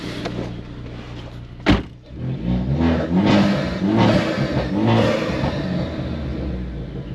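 A budget drag race car on its first test drive, with a sharp thump like a door closing early, then the engine revving and pulling in repeated rising surges, loud and close, with no voices.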